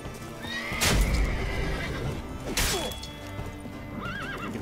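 Roach, a horse in the video game Witcher 3, whinnies loudly twice in quick succession over steady game ambience, with a few hoof clip-clops between the calls and no talking.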